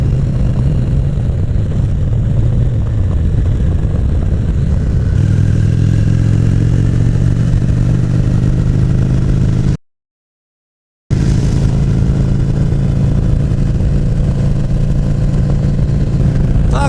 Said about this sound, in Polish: Takie sobie motorki tu jeżdżą